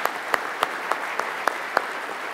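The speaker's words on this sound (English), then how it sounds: "Let's give him a round of applause." Steady applause from a crowd, with a few sharper individual claps standing out over the continuous patter.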